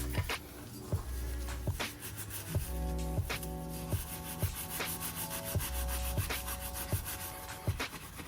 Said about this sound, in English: I'm just going to wash it down again before going in with the metal scrub